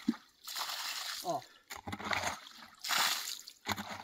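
Water splashing and sloshing as a stone is washed by hand at a spring, close and uneven bursts of splashing, with someone talking at moments.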